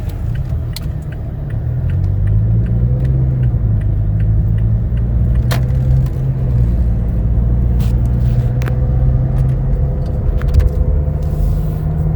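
Inside a moving 2016 Toyota Tacoma double cab pickup, a steady engine and road rumble rises and falls through gear shifts. Small rattles and clicks come from the cabin throughout.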